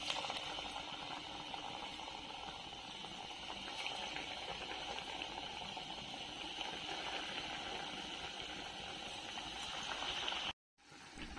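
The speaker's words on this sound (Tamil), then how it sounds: "இப்போ ஒன்று ஒன்றா எடுத்து வறுத்து எடுத்துக்கலாம்." Rava khajoor pieces frying in hot oil on low flame, a steady dense bubbling sizzle close by, unbroken except for a brief cut near the end.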